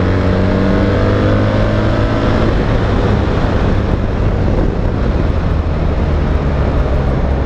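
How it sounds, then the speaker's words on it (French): A BMW R1300 GS with an Akrapovic exhaust revs high while riding. The engine note is steady and loud but mostly buried under heavy wind roar. "la Krapovic se fait pas remarquer, même haut dans les tours"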